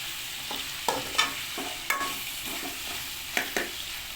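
Chicken frying in a pan, a steady broadband sizzle broken by several sharp stirring scrapes and clicks, fairly close and with no one talking.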